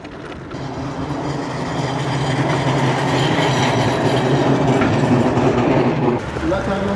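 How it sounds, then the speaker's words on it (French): A new city tram rumbles past on its rails near a rider on an electric scooter, a loud, close, continuous rolling clatter that builds and holds for several seconds before easing off. "Ah, c'est pas mal le tramway, dis donc."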